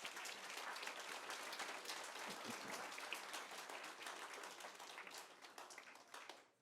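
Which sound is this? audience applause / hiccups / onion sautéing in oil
audience applause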